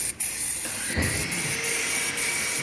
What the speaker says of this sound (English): we're just going to spray all the engine covers